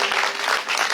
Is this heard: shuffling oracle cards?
no